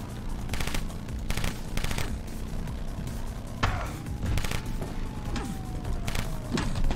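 Rapid bursts of gunfire in the motorcycle combat game Road Redemption, repeated volleys cutting in and out over steady engine and game noise, fairly loud and close.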